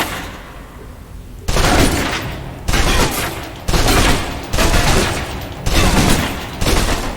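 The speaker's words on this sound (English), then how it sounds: "Now, let's move on to the submachine gun. Now let's empty the clip." Submachine gun in the video game Alpha Protocol emptying a full magazine, six loud sustained bursts of rapid gunfire separated by short pauses.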